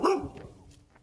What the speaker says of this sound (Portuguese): Quanto cachorro tem aqui?